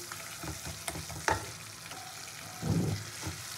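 Masala and kasundi mustard sauce fry together in oil in a pan with a soft, steady sizzle. Occasional clinks and scrapes from stirring break through, and a louder bubbling swell comes near the end. No one speaks.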